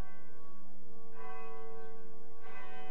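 A large bell pealing in historic York Town, two resonant strikes with long, ringing tonal overtones that hang and decay, clear and alone with no voices.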